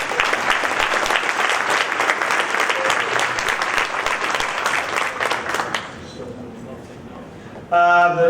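A crowd gives athletes another round of applause at a senior athletic awards breakfast, dense clapping for about six seconds that then thins and dies away into room noise, followed by a short tonal sound.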